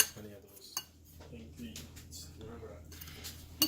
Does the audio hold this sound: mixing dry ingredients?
yes